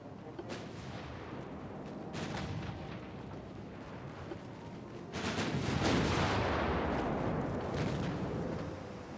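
Heavy warship guns boom in a naval battle in the game Ultimate Admiral: Dreadnoughts, with repeated deep blasts layered over a constant roar of battle noise that swells louder midway.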